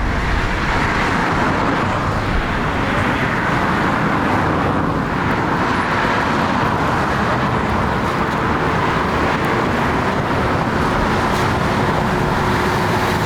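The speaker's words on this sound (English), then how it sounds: "Same as these cars are driving right here." Cars driving past on a city street, a loud continuous roar of traffic and engine noise close by, with no breaks.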